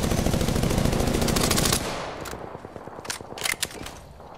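Rapid automatic gunfire in the video game Apex Legends rattles loud and dense for nearly two seconds, then cuts off into scattered quieter shots, clicks and footsteps.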